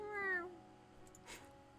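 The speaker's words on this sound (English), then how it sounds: "That's a cat noise." A cat gives one short, rising meow near the start, fairly quiet, followed by a faint brief rustle in an otherwise quiet room.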